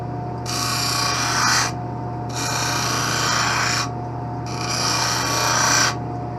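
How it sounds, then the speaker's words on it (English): A miniature cutting wheel grinds around the edge of an eyeglass lens in three separate raspy bursts, each lasting about a second and a half, over a steady low machine hum, close and loud. "This is like a miniature cutting wheel. But I'm going to go around and take a little bit off your lens."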